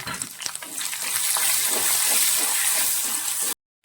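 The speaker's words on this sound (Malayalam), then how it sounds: "ഇതിലേക്ക് നമ്മൾ എടുത്തു വെച്ചിരിക്കുന്ന വെളുത്തുള്ളി ചേർക്കുവാണ് അതുപോലെ തന്നെ ഇഞ്ചി കുറച്ച് ഉപ്പും കൂടിയിട്ട് നമ്മളിത് നന്നായിട്ട് വഴറ്റണം" Garlic, ginger and salt sizzle while being sautéed in a pan for a mushroom masala. The hiss is steady and close, then cuts off abruptly just before the end.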